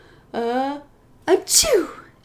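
An adult voice imitates a sneeze in a playful routine with a toddler, a rising sung note followed by a sharp breathy achoo burst, close and clear.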